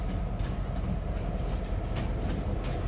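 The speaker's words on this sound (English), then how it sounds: "Trains coming through here." A Norfolk Southern freight train rolls through a rail station, a steady loud rumble with rhythmic wheel clicks and clacks over the rail joints, close by and continuous.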